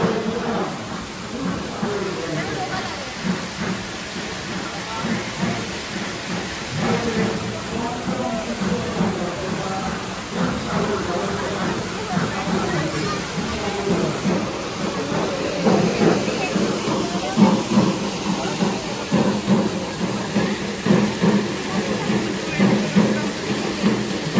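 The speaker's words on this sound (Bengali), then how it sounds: "এই যে জলপ্রপাতটা দেখছেন, এটা কিন্তু পুরোপুরি কৃত্রিম, আর্টিফিশিয়াল।" Water pours steadily down an artificial waterfall with a filtered recirculating flow at a crowded Jagadhatri Puja pandal in Krishnanagar, a continuous broadband rush mixed with crowd noise and voices talking throughout.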